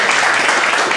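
Audience applause at a live fight event, a dense, steady wash of clapping that holds at full loudness for about a second with no pause.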